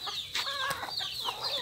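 Chickens cluck close by while eating bananas on a farm, a busy run of short overlapping clucks and squawks.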